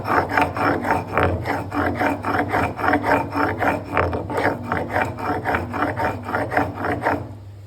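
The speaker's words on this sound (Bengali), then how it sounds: "এই যে বেটে নেব একটু কালো জিরে, মানে জিরে আর এই যে আদা।" Black cumin seeds and ginger ground into a paste by hand, a steady rhythmic rasping scrape repeating about three times a second, close and fairly loud throughout.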